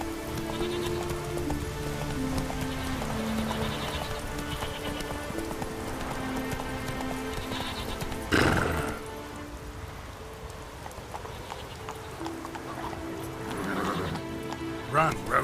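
Roach, the horse in The Witcher 3, gallops through rain, hooves drumming steadily under a rain hiss, with a sharp louder burst partway through and a voice speaking at times.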